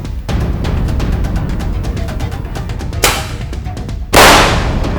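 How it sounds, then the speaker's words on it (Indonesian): Children in Sumedang set off a bamboo cannon, and two sharp, loud booms ring out a second apart over a dense, crackling background. "Ya ampun, ternyata bocah-bocah lagi pada main lodong euy."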